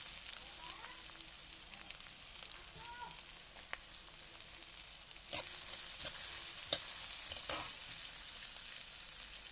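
Steady crackling sizzle of onions and green chillies frying in hot oil in a wok, with a few sharper clatters of stirring toward the end; no talking.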